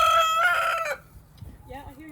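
A rooster crows loudly once in a yard, a bright harmonic call lasting about a second, followed by quieter clucking and faint background noise.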